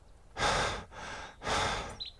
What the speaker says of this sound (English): As I talk a lot while hiking through the beautiful Tasmanian bush, you can hear me panting.